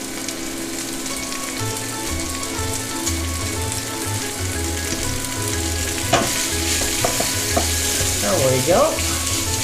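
Sweet or spicy Italian sausage browning in a pan, a loud continuous sizzle with a low steady hum and a few sharp clatters of a utensil near the end, and a brief spoken remark.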